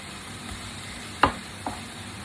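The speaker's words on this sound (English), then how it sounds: "So I'll continue moving this around, cooking it, make sure it's not on too high" Beef fries in butter and oil in a pan, a steady low sizzle broken by two sharp knocks as it is stirred, with no talk.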